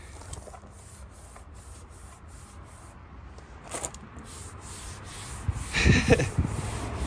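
Soft, steady rubbing of a hand across smooth car paint, quiet and close, swelling into a louder swishing stroke near the end.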